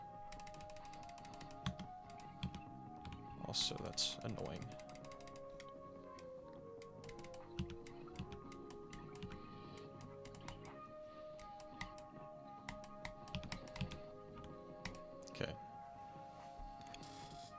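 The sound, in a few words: rapid clicking while playing a video game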